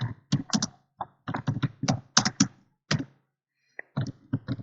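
Keys clatter on a computer keyboard while someone types Java code for a tic-tac-toe game. The keystrokes land in quick clustered bursts with brief pauses, close and crisp, with no talking.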